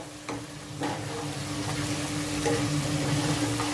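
Chana kofta mixture of chickpeas sizzles steadily in a pan while being stirred, a continuous close frying hiss broken by occasional scraping strokes of the spoon.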